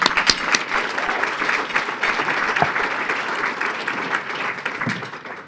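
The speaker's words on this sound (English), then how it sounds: "Let's give him a round of applause." An audience at a school partners luncheon breaks into sustained applause, dense clapping from many hands that holds steady and then slowly fades, with no speech over it.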